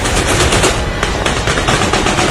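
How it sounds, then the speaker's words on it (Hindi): Continuous rapid gunfire in a war zone in Afghanistan, loud and dense, with bursts of shots blending into a constant crackling roar. "गोलियां बरस रही हैं"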